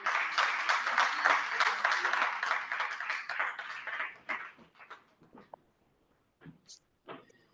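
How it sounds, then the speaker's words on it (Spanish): Church congregation applauding during a Spanish-language service, a moderate burst of clapping that thins out after about four seconds into scattered claps and brief noises. "Le damos un aplauso al Señor."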